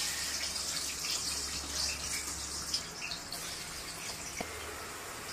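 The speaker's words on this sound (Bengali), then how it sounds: "তেল গরম হয়ে গেছে, এখন আমি এতে পেঁয়াজগুলো দিয়ে দিচ্ছি।" Sliced onions sizzling in hot oil as they start frying for chicken masala fry, a soft continuous crackle and hiss at low volume, heard alone with faint background hum.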